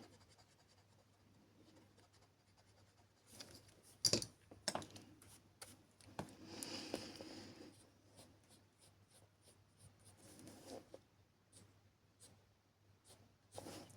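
Light pencil strokes on paper during a colouring session, a run of short scratchy marks and rubs of varied length, close and quiet, with a soft background hum and no talking.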